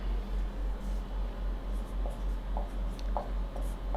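Pen or marker strokes scratch softly as a force formula is written out in a physics lesson, faint short scribbles over a steady low pulsing hum, with no talk.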